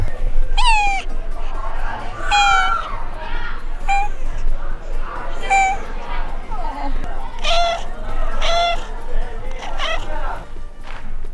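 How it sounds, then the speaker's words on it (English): A cat gives several short, high meows at irregular intervals, close by, while people chatter and move about nearby. "Did you get the cat? It made a dead cute noise."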